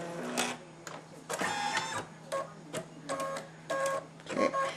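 An embroidery machine stitches an appliqué piece, giving rapid mechanical buzzing and whirring in short rhythmic bursts broken by brief pauses, close and fairly quiet.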